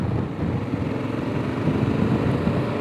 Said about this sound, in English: Get some throttle.